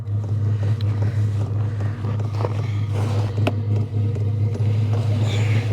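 A dual diesel heater running just after start-up, a steady close low hum and drone with faint rattles and ticks over it, continuous throughout.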